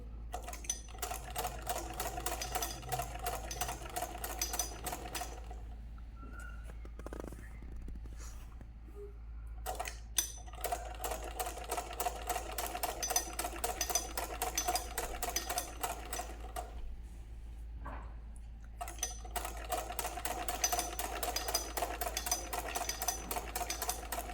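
A sewing machine double-stitches a sleeve in quick rattling bursts separated by short pauses, close and clear, with a faint low hum beneath.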